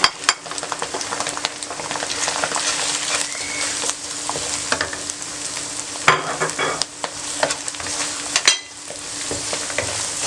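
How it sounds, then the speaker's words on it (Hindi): Garlic and spices sizzle in hot oil in a karahi for dal karahi, with a steady frying hiss broken by scraping spoon strokes and occasional sharp metallic clinks, close and fairly loud. "दोबारा आपने चंद सेकंड के लिए इसको फ्राई करना है"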